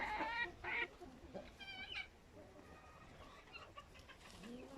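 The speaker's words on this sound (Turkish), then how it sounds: "Şuraları horozlarımız da ötüyor." Ispenç roosters and hens in a backyard flock, with several short, fairly faint crows and clucks scattered over a quiet outdoor background, no talk.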